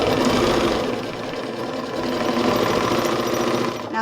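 A sewing machine stitches along vinyl on a quilted composition notebook cover, a loud, close, steady rapid clatter running without pause from start to finish.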